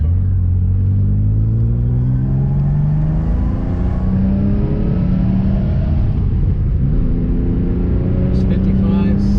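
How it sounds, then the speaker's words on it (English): A 1983 Porsche 911 SC cruises at about 60 mph, its engine droning steadily with road and wind rumble heard from inside the car, loud and continuous throughout, with someone talking over it. "The car cruises very nicely at 60 miles per hour, retaining good oil pressure."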